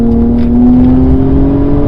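A 2021 Acura TLX Type S turbocharged engine pulls under acceleration, giving a loud, steady drone that rises slightly in pitch, heard up close from inside the car with no talking.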